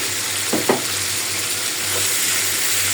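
Onions fry in a pan beside cooking pigeon curry, with a loud, steady sizzle and a couple of quick scraping stirs near the start, over a faint background hum.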